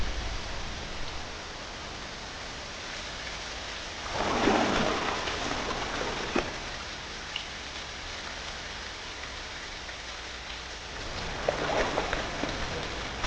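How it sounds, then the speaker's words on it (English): Heavy wet-season rain falling on tropical forest in Xishuangbanna, a dense steady hiss that swells in two louder gusts, with a few low rumbles, close and continuous with no voices. "As the rain intensifies, sheets of water pour into the river and swell it relentlessly."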